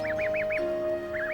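Geese call near their goslings, a run of four quick rising-and-falling honks followed by two more after a short pause, clear and close over a steady background tone.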